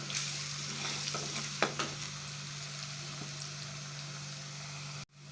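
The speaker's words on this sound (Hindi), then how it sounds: "अब हम इसके अंदर अदरक लहसुन डाल देंगे।" Ginger and garlic stirred into frying karahi gosht give a steady, close sizzle with a spatula clinking against the pan a couple of times, and it cuts off abruptly at the end.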